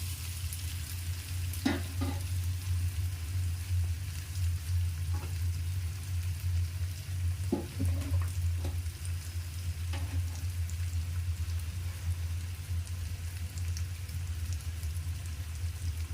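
Jackfruit stirred into masala frying in a pan, a low steady sizzle with a few sharp spoon scrapes and knocks against the pan, close by, with no voices.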